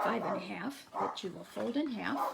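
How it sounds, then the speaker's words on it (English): Dogs barking at something out in the neighborhood, intermittent and somewhat distant beneath steady close-up speech. "the dogs are having a good time barking at something in the neighborhood"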